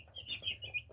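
Silkie bantam baby chicks peep in a run of high, bright chirps that rise and fall several times over a second, fairly close, with a low hum underneath.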